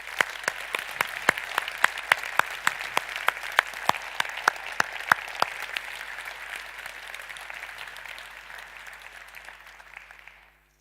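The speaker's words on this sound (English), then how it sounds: "If I could ask you to hold your applause" An audience at a conference claps, a sparse burst of individual hand claps standing out over a thinner steady patter, heard from a distance and slowly trailing off.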